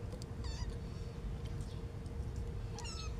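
A pet cat meows twice nearby, a short rising call and then a longer one a few seconds later, over a low steady indoor hum.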